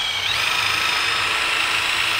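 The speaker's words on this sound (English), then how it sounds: "So I'm going to drill the pilot hole first." A power drill spins a spade bit through a pilot hole, a steady, close, high-pitched whir that shifts pitch slightly as the bit bites in and then holds constant to the end.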